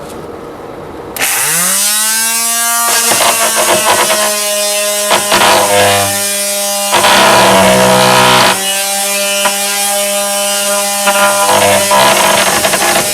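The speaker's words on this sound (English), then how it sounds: "I'm making some pretty good progress sanding the cabinet down" A Rockwell oscillating tool sands the corners of a wooden TV-stand cabinet, starting abruptly into a loud, close, steady high-pitched buzz that shifts in tone as it presses against the wood, with no talk.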